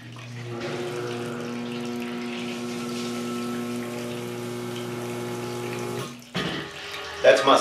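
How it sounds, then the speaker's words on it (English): A basement sump pump kicks on, a steady low motor hum with strong tonal bands under rushing water, running evenly for six seconds before cutting out into brief clunks and splashes. "That's my sump pump that kicks on right there"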